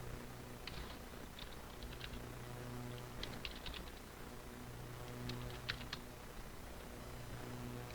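Name typed on a computer keyboard while setting up a FreeNAS storage pool: scattered bursts of light key clicks over a steady low computer hum, close by.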